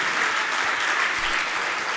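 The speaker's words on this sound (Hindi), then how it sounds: "अब तो ताली बजाइए आप लोग अच्छे से" A large audience at a Jain religious discourse claps loudly and steadily, a dense continuous wash of applause filling the whole moment with no gaps.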